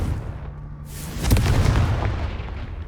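Confringo spell explosion in Hogwarts Legacy: a short rising whoosh, then a loud burst about a third of the way in that rolls on as a rumbling blast and fades slowly.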